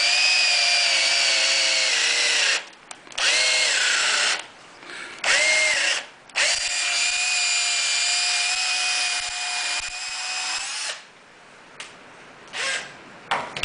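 A power drill spins a square wooden blank against a cutter to shape a round dowel. It whines in several long bursts, each winding down and briefly stopping before the motor starts up again. The sound is moderately loud and close, with no talking.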